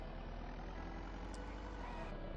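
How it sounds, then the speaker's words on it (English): A truck in VEIN idling with a low, steady engine rumble and drone, close and continuous throughout, with no clear speech over it. "A truck."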